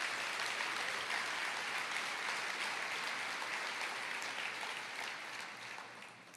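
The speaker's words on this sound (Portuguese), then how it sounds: "Aplauda." Church congregation applauding during a sermon, a broad sustained roar of many hands clapping from a large crowd, steady then gradually fading toward the end.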